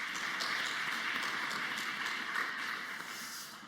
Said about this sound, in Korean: 그리고 수요 경배 찬양팀도 우리 축복하는 박수 하겠습니다